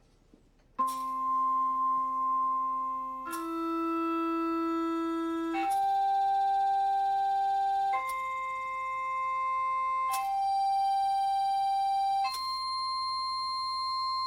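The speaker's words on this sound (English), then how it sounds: "And now what happens when we make this plate vibrate from an electronic piano." Sustained electronic piano tones drive a cymatics plate, six held notes stepping through different pitches one after another, each entering with a sharp onset and ringing steadily at moderate loudness, with no talking.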